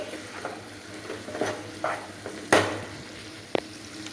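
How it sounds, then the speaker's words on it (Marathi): Onion cooks in a pan for khade masala chicken, a soft steady sizzle with occasional stirring scrapes and a few sharp utensil knocks against the pan. "सो इथे आपला कांदा शिजतोय"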